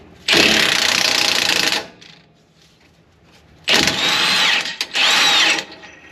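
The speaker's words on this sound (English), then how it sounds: "you'll go need a 19mm wrench or a socket and gun out this bolt" An impact gun with a 19mm socket zips a bolt loose on a lifted Toyota GX470, 4Runner or FJ Cruiser during a panhard correction kit install, firing in one long loud burst, then two shorter close bursts after a pause.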